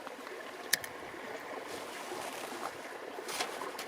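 A Dartmoor river rushes and burbles steadily nearby, a soft, continuous wash of flowing water with one brief click near the start and no voices.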